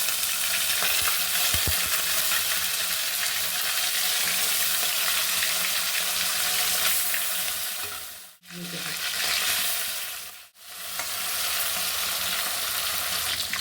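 Tilapia pieces frying in hot oil in a pan, a steady loud sizzle and crackle running close and continuous, broken by two brief near-silent dips late on.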